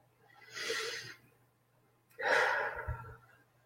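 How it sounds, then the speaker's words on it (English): Two slow, deep breaths close to the microphone, a long inhale then a fuller exhale, soft and airy in a quiet room. "I invite you to take a deep breath with me"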